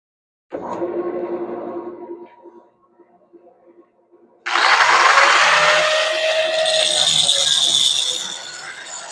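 A bench grinder with extra weight fixed to its back spins up, then a loud, steady grinding whine holds for several seconds after a brief quieter run.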